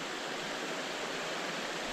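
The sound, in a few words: river and waterfall beside Appalachian Trail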